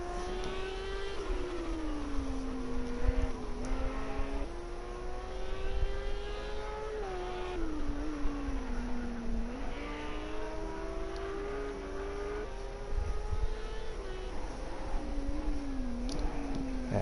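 An Audi race car engine in a racing video game drones steadily throughout, its pitch climbing and dropping through repeated gear shifts and throttle changes, loud and close with a continuous whine.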